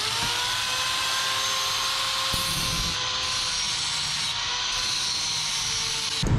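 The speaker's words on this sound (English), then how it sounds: "I'm going to go ahead and stick with the grinder" An angle grinder cuts sheet metal for homemade smoke stacks: a loud, continuous, close high-pitched whine with a harsh rasp throughout, its pitch dipping slightly as the disc bites, and no talk.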